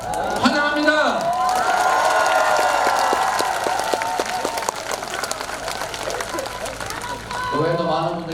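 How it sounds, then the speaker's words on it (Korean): Large outdoor crowd applauding and cheering at a Korean presidential campaign rally on Ulsan's Ilsan beach, a dense steady roar of clapping with shouts mixed in, while voices call out over it and an amplified voice speaks at the start and end. "우리 현역 아닌 분들한테 더 박수 많이 쳐주세요"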